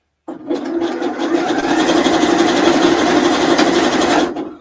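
A sewing machine stitches elastic gathers in one close, loud, continuous buzzing run that starts abruptly and stops just as suddenly a few seconds later.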